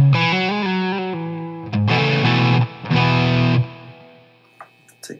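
Electric guitar through an Xotic Soul Driven overdrive pedal, a few picked notes followed by two loud, thick strummed overdriven chords, then a fading ring-out with faint string noise, nobody speaking.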